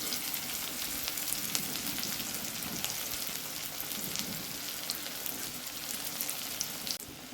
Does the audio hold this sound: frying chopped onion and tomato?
yes